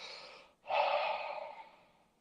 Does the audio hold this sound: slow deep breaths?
yes